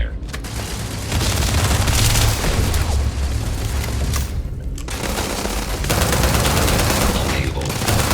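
Weapons opening fire in the space game Starfield during a fight with the Crimson Fleet, a dense, continuous barrage of booming shots and blasts that stays loud and nearly unbroken.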